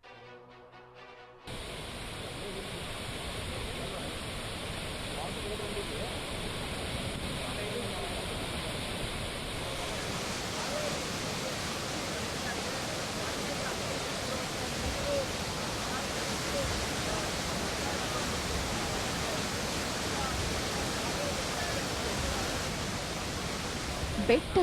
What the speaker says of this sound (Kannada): ಬೆಟ್ಟದ ಮೇಲೆ ಬೆಳ್ಳಿ ಧಾರೆ ಧುಮ್ಮಿಕ್ಕುತ್ತಿದೆ